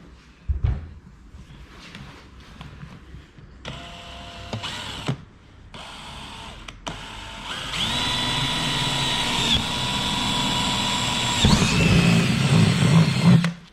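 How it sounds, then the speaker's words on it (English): Short bursts of a power drill whirring, stopping and restarting, then a long sustained drilling run that grinds louder near the end, close by. "now we're going to drill 5 holes"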